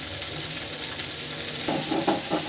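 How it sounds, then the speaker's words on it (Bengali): Pasta fries in a little oil with spices in a pan, a continuous close sizzle with stirring scrapes and clatter growing busier toward the end. "এখন ভালো করে পাস্তাটা ভেজে নিতে হবে।"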